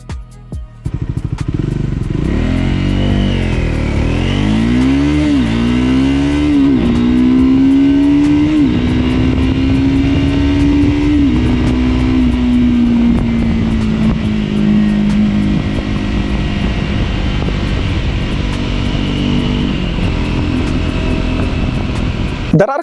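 A Triumph Scrambler 400X motorcycle accelerates hard through several gears, the single-cylinder engine rising in pitch, dropping at each shift, then holding a steady loud drone before cutting off, with no talk.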